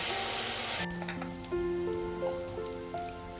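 Chicken masala is sautéed in a pan, with a loud sizzle at first that drops off abruptly, leaving softer crackling under sustained ringing tones.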